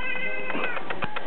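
A cat meows indoors while wearing a new bomber jacket, giving a few short, mid-loud cries in a quick rhythm close by, with no talking during the sounds.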